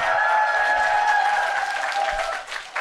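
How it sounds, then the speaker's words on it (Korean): An audience applauds before a lecture, a dense and steady round of clapping that fades toward the end, close and loud, with no talking. "박수가 그쳐야 강의 시작하는데"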